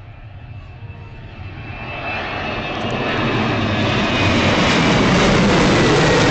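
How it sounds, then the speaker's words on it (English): Airplane at Leeds Bradford airport at night, engine roar swelling from a distant rumble to a loud, broad jet-like wash as it draws near, with no voices. "this is the final plane of the night"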